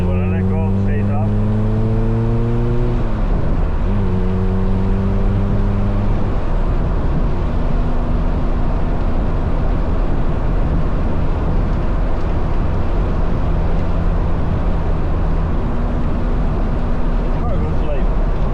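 A 1988 Honda CRX fitted with a K20 Type R engine revs up with a rising and falling whine, then settles into a steady, slightly raised idle with occasional small throttle blips, loud and close.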